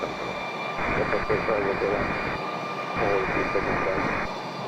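A military F-18 jet flies over Scottsdale with a steady, loud, roaring engine rumble that swells and fades slightly across the passage, while people talk faintly in the background.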